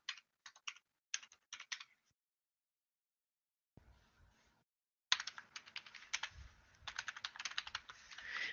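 A computer keyboard clicks in quick bursts of keystrokes, with a pause and then denser, continuous typing, close and fairly quiet, while tax return data is entered; no talking.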